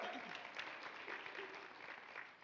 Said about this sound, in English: Yes, so you should clap.